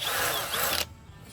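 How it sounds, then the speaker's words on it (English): Power drill boring a hole through plastic while mounting a rearview camera, a steady loud whir lasting under a second before cutting off abruptly. "I'm gonna punch it and I'm gonna drill it."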